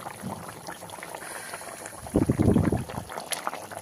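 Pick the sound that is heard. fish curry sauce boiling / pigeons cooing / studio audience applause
fish curry sauce boiling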